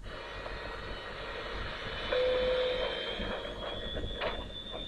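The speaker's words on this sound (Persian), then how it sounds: "دیدید صدای هواپیما میاد" Steady airplane cabin drone from the engines makes a continuous low roar in an English lesson recording, with a brief tone partway through and no speech.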